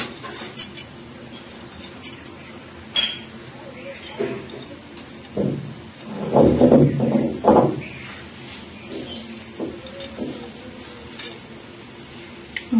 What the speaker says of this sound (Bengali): গোটা জিরে ফোড়ন দিয়ে দিলাম।